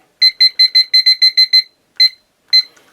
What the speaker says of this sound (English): I start the timer